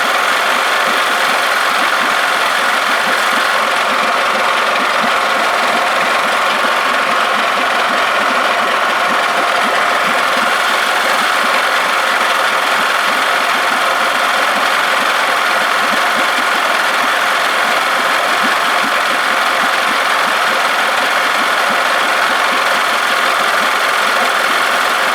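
A 1979 Evinrude 55 hp outboard motor idles steadily while warming up, a continuous close mechanical hum with a faint ticking knock running unbroken and fairly loud throughout, no voices.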